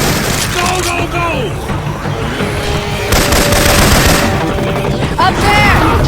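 Syphon Filter weapon sounds firing in Left 4 Dead 2, bursts of loud gunfire crackling through a busy game mix with voices talking over it.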